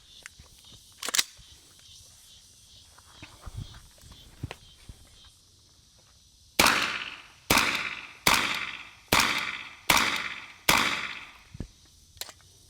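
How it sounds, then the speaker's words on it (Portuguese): After a quiet stretch with a few small clicks, six sharp, loud AR9 rifle shots ring out in three pairs, quick and evenly spaced, each with a short echo, fired with a horizontal compensator. "São 3 séries de 2 tiros."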